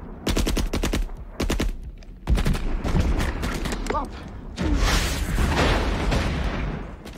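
Rapid bursts of machine-gun fire rattle close by in a war film battle, followed by booming blasts from an exploding truck and continuous heavy gunfire mixed with explosions.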